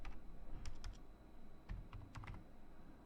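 Fast typing on a computer keyboard while headings are entered into an Excel form. Quick bursts of soft key clicks come close and alone over a low room hum.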